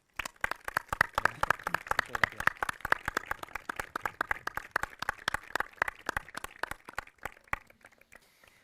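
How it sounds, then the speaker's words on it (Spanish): An audience at a design and philosophy talk in Medina Azahara gives a guest speaker a loud, dense round of applause, the sharp claps sustained for about seven seconds before thinning out, with a brief spoken word near the end. "Lo recibimos con un fuerte aplauso."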